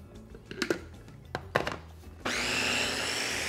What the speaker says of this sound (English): Blend it probably one more time here.